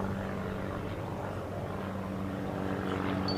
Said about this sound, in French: Cet avion, il est équipé d'un moteur Lycoming de 200